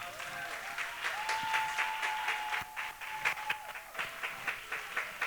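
A church congregation applauds and cheers in praise of the Lord, sustained dense clapping with a held sung or shouted tone running underneath.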